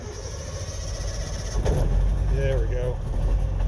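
An old vehicle's engine is coaxed to start with the choke pulled, then settles into a steady low idle that rumbles under nearby talking.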